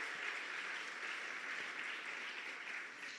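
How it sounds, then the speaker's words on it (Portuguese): Steady applause from a church congregation, a dense continuous wash of many hands clapping at moderate distance, holding level for several seconds without any talking. "Dá uma salva de palmas, glorifica o seu nome"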